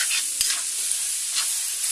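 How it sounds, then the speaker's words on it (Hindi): Grated carrot and full cream milk cook over low to medium heat in a pan, giving a soft steady hiss, with one sharp tap of a spoon against the pan. "बस अच्छे से मिक्स करेंगे।"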